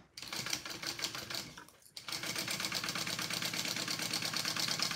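A sewing machine stitches two fabric pieces of an Adam crossbody bag together at full seam allowance, running in a steady, close, continuous mechanical whir with a brief pause near the start before resuming.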